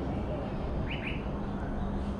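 Small birds at Jurong Bird Park give two quick, faint chirps in a row, set against a steady, dense background wash of aviary ambience.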